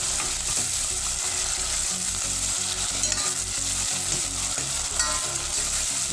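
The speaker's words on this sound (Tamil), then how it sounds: "அதுக்கப்புறம் புதினா கட் பண்ணி வச்ச புதினாவும் கொத்தமல்லியும் சேர்த்து இது கூட நல்லா வதக்கிக்கிறேன்" Onion, tomato, mint and coriander being sautéed in a pan for chicken dum biryani: a loud, continuous sizzle with repeated scraping and stirring strokes throughout.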